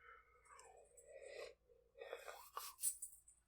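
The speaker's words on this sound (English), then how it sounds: "Oh, I'm sorry, I keep yawning." A person yawns close to the microphone, a drawn-out breathy, voiced exhale rising and falling in pitch, followed by a second shorter yawn-like breath, quiet and alone.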